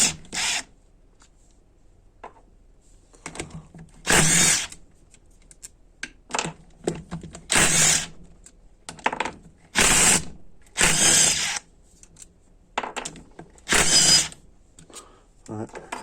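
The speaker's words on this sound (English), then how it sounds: "Now we have all these 6 13mm. I'm gonna unscrew those real quick." A power tool runs in repeated short bursts while unscrewing six 13mm bolts on an A604/41TE transmission, several sharp whirring spurts separated by pauses and quieter clicks.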